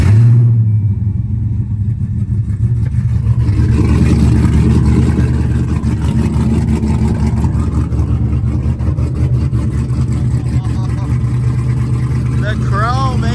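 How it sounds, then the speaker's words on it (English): A cammed, straight-piped Jeep SRT8 engine idles loud and close with a steady, deep, lopey rumble that runs unbroken from start to finish. "fire this baby up now that we're reading some good live data"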